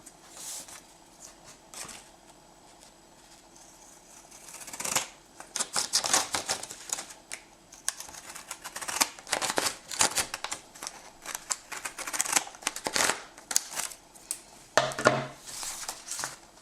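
Laoye pinking shears snip through paper in a series of crisp, crunchy clicks, irregular and close, starting faint and growing busier and louder.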